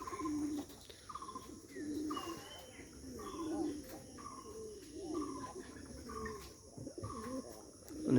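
Green-necked and Bombay pigeons give repeated low, throaty coos in a steady rhythm, close by, with faint chirps and a brief voice in the background.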